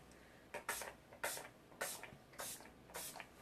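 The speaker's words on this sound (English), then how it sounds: "And you're gonna want to do about 4 to 5 sprays." Spray bottle misting a silicone-free vitamin spray, five quick hissing bursts in an even rhythm, some with a doubled pump, close and fairly quiet against a still room.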